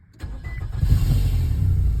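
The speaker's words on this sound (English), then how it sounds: "So I'll go and start up the engine." A 2009 Nissan Altima with the 2.5 engine and a vacuum leak cranks and fires up close by, then settles into a steady, loud idle with a rough, hissing edge.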